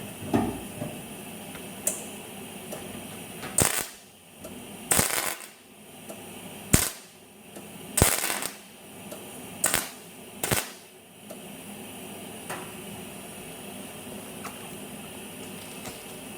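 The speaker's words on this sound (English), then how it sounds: "Trying to find a happy medium with this weld is a little bit hard." Short bursts of welding on rust holes in a Ford XF Falcon body, a series of sharp crackling spurts a second or so long separated by pauses, close and loud, no talking.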